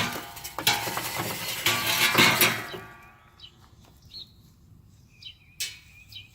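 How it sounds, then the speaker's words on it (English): Hot charcoal coals are poured into a smoker for Carolina-style pulled pork, a loud rattling, crackling tumble of coals over the first few seconds, then fading to sparse clinks and faint settling sounds. "we're going to go ahead and put these hot coals in here"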